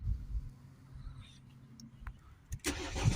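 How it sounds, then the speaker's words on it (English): A Mercedes ML 250 CDI diesel engine cranks and catches after a low rumbling lead-in, then settles into a loud, close idle. "Start the vehicle up."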